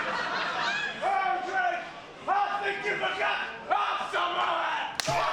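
Wrestling fans at an NCL.23 show cheer and holler loudly in repeated surging shouts, with laughter and chatter mixed into the crowd noise and a sharp bang near the end.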